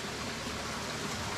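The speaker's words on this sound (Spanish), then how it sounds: "Normal, esto suele ser muy fuerte este arroyo, pero hoy está bajo." Shallow, low-running creek on a hiking trail, a steady broadband rush of flowing water, close and continuous, with no voices.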